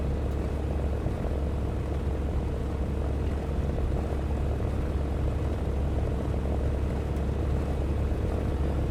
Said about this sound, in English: I spotted a bomber flying low